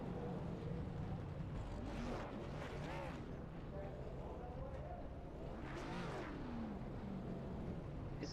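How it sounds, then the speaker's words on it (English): NASCAR stock cars in the iRacing video game do burnouts, with tire squeal and revving engines swelling in two loud bursts over a constant roaring background, while commentators talk. "This is some awful burnouts"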